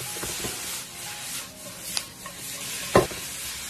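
Bean sprouts seasoned with salt, chicken bouillon and soy sauce are stir-fried over high heat in a wok, with a soft sizzle under repeated scraping and tossing strokes and a sharper clack near the end.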